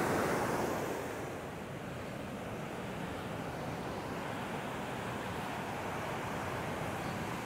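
Heavy surf surges ashore on a coastline swollen by high seas after rain, a continuous loud wash of breaking waves with wind noise on the microphone.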